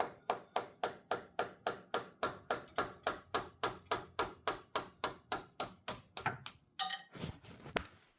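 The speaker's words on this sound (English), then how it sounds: "So now the play is to hit it with the hammer and the fancy tool." A hammer drives a tool against a car steering part, giving a steady run of about twenty crisp, evenly spaced metallic strikes followed by a few irregular knocks and scrapes.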